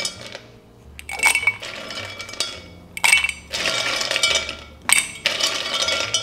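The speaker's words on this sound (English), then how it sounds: "I'm going to fill my rocks glass with some rocks." Ice cubes dropped into a large rocks glass for a mojito, three bursts of clinking and rattling a couple of seconds apart, close and clear with no talk.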